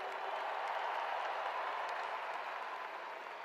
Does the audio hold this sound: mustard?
no